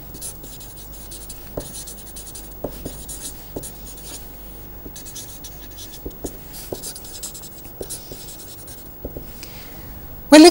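Pen scratching across paper during a lecture on wavelets and multirate signal processing, with short irregular strokes repeating throughout, close and fairly quiet, with no talk over it.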